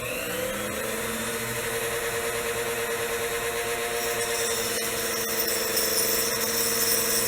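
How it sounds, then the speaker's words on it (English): A Dremel rotary tool with a cutting disc whines steadily as it shaves metal burrs off antenna parts, a continuous high-pitched grinding hum with no talking. "I have a Dremel tool here, and we're going to shave these off."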